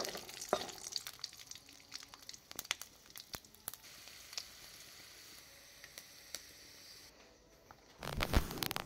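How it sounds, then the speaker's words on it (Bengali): Peanuts frying in a pan, giving a steady close sizzle broken by sharp crackles and stirring scrapes, with louder stirring near the end and no talking. "যার জন্য কিন্তু বাদামগুলো ভেজে নিচ্ছি।"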